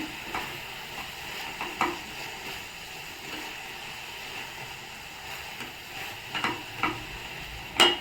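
Upma being stirred in a pan after a spoonful of ghee is added, a steady soft scraping and gentle sizzle with scattered spoon knocks and clinks throughout, no voices.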